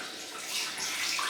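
Hot water running steadily from a tap into a basin, a continuous bright hiss of flowing water with no talk.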